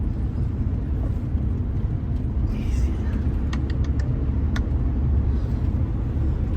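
Steady low road rumble from a van driving, with engine and tyre noise holding constant throughout and a few faint higher ticks partway through.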